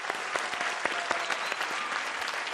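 Studio audience at an Italian TV variety show applauding steadily, a dense wash of many hands clapping close and full, with a few sharper claps standing out, no talk over it.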